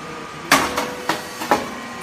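SYP4506 potato chip pop machine puffing 100% Italian potato pellets into rice-cake-type cakes at 220 degrees: four sharp popping bursts, each with a hissing release, spaced roughly a quarter to half second apart over low mechanical hum.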